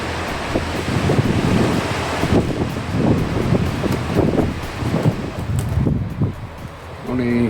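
Strong wind gusting outdoors around a house under renovation, a steady broadband roar with rising and falling surges throughout, loud and close to the microphone with buffeting, no talking over it.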